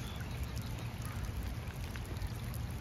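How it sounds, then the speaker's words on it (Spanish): Steady rain patters in a dense, even hiss, fairly quiet and continuous, with no voices. "A pesar de que pues está lloviendo bastante,"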